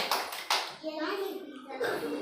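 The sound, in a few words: children clapping their hands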